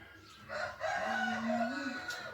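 A rooster crows in a long drawn-out call at a farm, with chickens clucking around it at moderate distance amid faint background noise.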